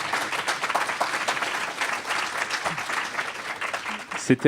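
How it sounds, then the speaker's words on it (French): Applause from a conference audience at a risk management workshop session, dense clapping throughout with murmured voices underneath and a few louder bumps near the end. "On peut les applaudir pour la qualité de leur intervention."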